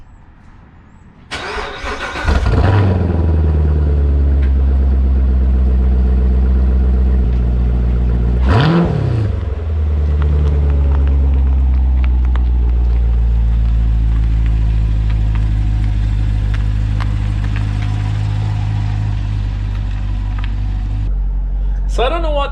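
A Chevrolet Corvette C7 Grand Sport, left sitting for two months, cold-starts with a loud crank and roar, settles into a steady high idle, then blips again before idling on loudly and continuously.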